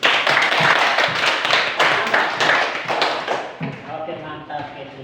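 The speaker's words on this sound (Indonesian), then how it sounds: "Kita beri tepuk tangan dulu" Classroom audience clapping, a close, uneven patter of hands in quick bursts that thins out toward the end, with voices talking over it.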